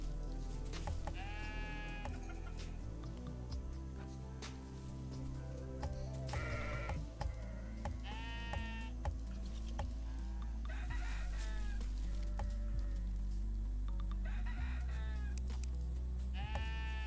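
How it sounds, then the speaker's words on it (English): Several sheep bleat in repeated, wavering cries alongside roosters crowing and hens clucking on a hot-weather farm with gates and troughs, the animal calls fairly close over a steady low hum. "Okay, we have sheep."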